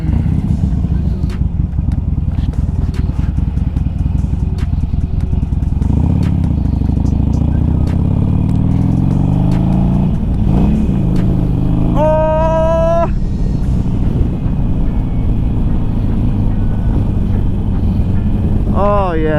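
A Harley-Davidson Sportster motorcycle being ridden in winter, its engine droning steadily up close with shifts in pitch as it accelerates, while a rider talks over it and brief squeaking tones cut through near the end.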